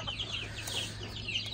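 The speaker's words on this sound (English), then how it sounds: "There's a chicken somewhere." A solid black gamefowl hen clucks outdoors, a run of short, repeated clucks at moderate distance over a steady low background hum.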